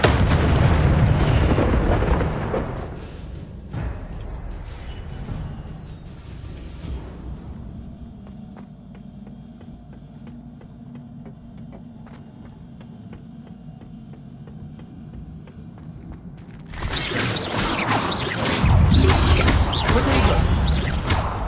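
The Incendio fire spell in Hogwarts Legacy bursts out with a loud fiery whoosh and crackling roar, followed by a quieter stretch and then another heavy, dense blast of flame and impact.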